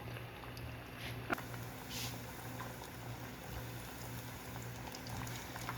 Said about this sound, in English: While the plantain is frying